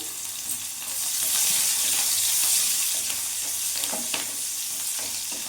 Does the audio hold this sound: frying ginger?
yes